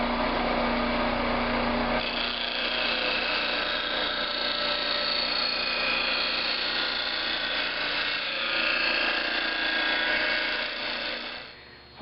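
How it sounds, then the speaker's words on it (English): A bench grinding wheel grinds the bevel of a drawknife on the corner of the wheel, giving a steady, close, high-pitched scraping hiss over a motor whine, continuous throughout and fading only at the very end. "Starting to get my grind, and you can see that I'm working on the corner of the wheel"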